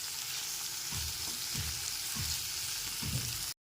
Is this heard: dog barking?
no